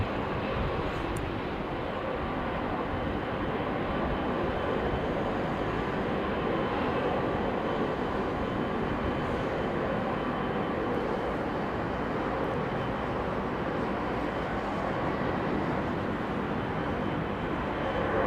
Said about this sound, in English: The big, bassy noise as the jet powered up.